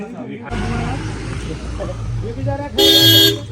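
A car pulls up with a low engine rumble, then gives a loud, sustained horn blast near the end while people talk over it.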